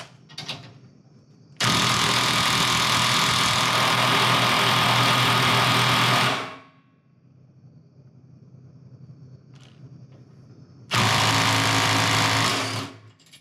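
A Milwaukee impact driver fitted with a Forge 6 Ah battery runs in a long loud hammering burst of about five seconds, winds down, then fires again in a second shorter burst, close and alone.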